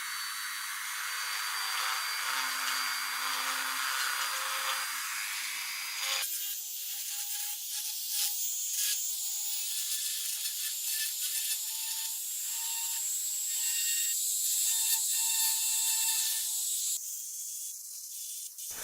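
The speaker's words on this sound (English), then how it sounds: "I found a rotary tool with a fine diamond bit is the ideal tool to get them clean" A rotary tool fitted with a fine diamond bit grinds corrosion off an old rusty gun barrel, a steady high-pitched whine and rasp that shifts pitch partway through and runs continuously at close range.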